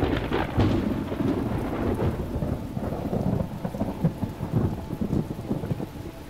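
Heavy thunderstorm rain in The Talos Principle video game, a dense, loud wash of falling water with deep rolling thunder underneath, continuous and without any talk.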